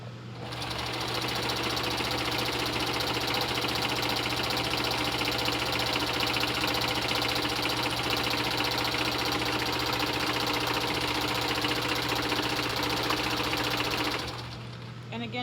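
A sewing machine stitches a petticoat seam in one continuous steady whir, close and fairly loud, starting up at the beginning and stopping just before the end.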